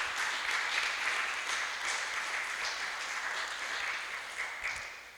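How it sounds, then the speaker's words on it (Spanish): A church congregation at a Sunday service claps together in steady, sustained applause, a dense wash of hands that fills the room and tapers slightly near the end. "Dele una ofrenda de palmas al Señor."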